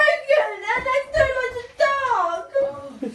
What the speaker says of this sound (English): Have we got children crying?